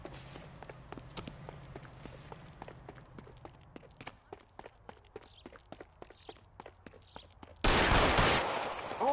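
Gunfire in the L.A. Noire video game: a rapid series of sharp shots crackles through the scene, followed by a loud sustained burst near the end, with no talking.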